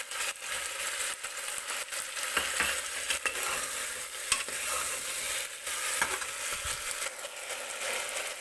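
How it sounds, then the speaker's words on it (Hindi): Garlic-ginger paste hits a pan of frying mixed vegetables with peas and tomato for pulao, giving a continuous close sizzle broken by repeated scraping stir strokes. "अब डालना है हमें लहसुन अदरक का पेस्ट।"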